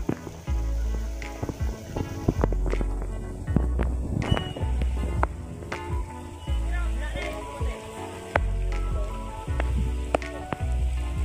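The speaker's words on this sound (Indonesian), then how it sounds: "Mulai deras ini guys." Heavy rain pouring outdoors during a kite-flying session, a dense continuous patter with sharp drip and splash hits, and a loud low drumming that pulses in repeated bursts.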